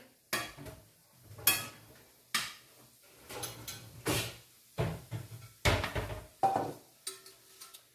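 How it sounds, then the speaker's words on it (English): A pan is pulled out of a kitchen cupboard, with a series of sharp clanks, knocks and rattles of cookware and doors, spaced irregularly and close by. "I'm going to need another pan."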